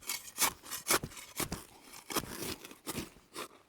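Soil is scraped by hand to make a small scrape in outback ground, heard as a series of close, rhythmic gritty rasping strokes, each short and dry, with no talking.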